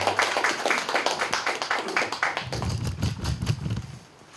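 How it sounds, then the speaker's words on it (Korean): Applause from an audience at a dimly lit Korean labour-politics forum welcoming the next presenter: a brisk run of fairly close hand claps that thins out and stops near the end. "힘차게 박수로 맞이해 주시기 바랍니다"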